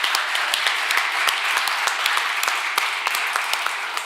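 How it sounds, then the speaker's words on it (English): A workshop audience breaks into steady, sustained clapping, with many hands applauding together at an even intensity throughout. "Let's give a round of applause for everybody here,"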